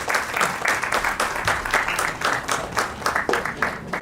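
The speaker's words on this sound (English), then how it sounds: "let's have a huge round of applause." An audience at a talk claps in sustained, dense applause that holds loud and even throughout, with no speech over it.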